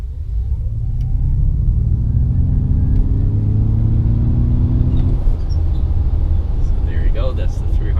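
A Ford Mustang Mach-E electric car with 332 horsepower pulls away while its engineered drive sound climbs as a steady, rising synthetic hum. After about five seconds the tone gives way to broad road and wind rush.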